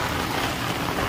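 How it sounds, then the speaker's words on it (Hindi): Heavy monsoon rain falls with a strong, gusting wind, making a dense, steady hiss and rush close to the microphone with no voices. "देख सकते हैं कितनी तेज़ बारिश हो रही है और बारिश के साथ साथ तेज़ तेज़ हवा भी चल रहा है"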